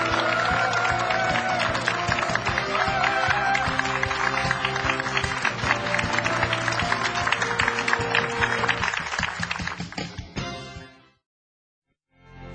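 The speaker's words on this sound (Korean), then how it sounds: "서동원 부위원장을 힘찬 박수로 맞이해 주십시오." Lecture-hall audience applauding to welcome a guest speaker, a loud, sustained burst of many hands clapping that rolls on steadily, then fades out and ends in silence.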